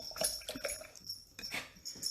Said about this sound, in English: If you hear the jingle jingles, that's my dog Bella